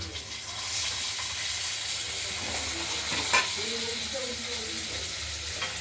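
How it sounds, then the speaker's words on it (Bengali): Potatoes frying in hot oil tempered with chilli, cumin and nigella seeds give a dense, continuous close sizzle, with a brief clatter of stirring partway through and a faint hum underneath. "এরপর আলুগুলোকে আমরা ভেজে দেবো।"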